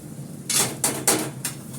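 A spoon scrapes and clatters against a kadai in four distinct metallic strokes spaced about a quarter-second apart, close and fairly loud, with a steady low background hum.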